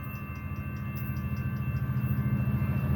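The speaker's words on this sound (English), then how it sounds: "here comes San Joaquin Train, 7:15" An Amtrak San Joaquin passenger train bound north for Oakland Jack London Square passes through Fresno at speed, a loud, close, steady rumble with rhythmic wheel clicks on the rail joints.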